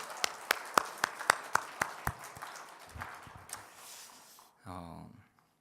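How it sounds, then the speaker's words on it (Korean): In church, slow, loud, evenly spaced claps ring out, about eight in a row from a close source, then fade into scattered softer clapping, after which a voice briefly speaks. "우리의 감사와 영광과 찬양을 받으신 하나님께 다시 한번 박수 드릴까요?"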